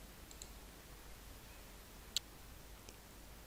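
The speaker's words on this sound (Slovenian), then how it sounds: "kliknemo rdeče obarvano besedo ter pritisnemo hkrati tipko Ctrl in desno tipko miške" A computer mouse right-button click with the Ctrl key held: a few faint soft ticks, then one crisp, sharp click, alone in a quiet room.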